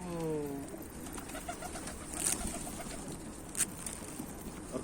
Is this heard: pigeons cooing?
yes